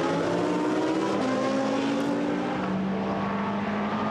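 GT sports race cars at a Hungary circuit accelerating down the start-finish straight, a loud continuous engine roar with rising tones, steady and close throughout with no talk.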